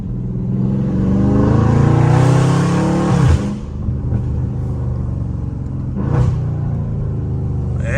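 A Dodge Scat Pack's untuned exhaust rumbles and revs up loudly, then drops off into crackling pops and burbles, with a second rev and a sharp pop later against a steady idle drone.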